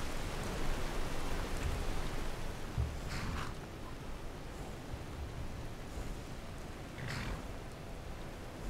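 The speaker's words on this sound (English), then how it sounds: "And it's still raining like crazy." Steady, dense rainfall in the video game Skyrim hissing continuously, with no voices and only faint shifts in intensity.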